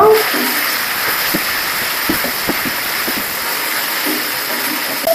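Jute leaves tossed into a hot pan and stir-fried, giving a steady broadband sizzle with scattered clicks of a spatula scraping and turning the greens.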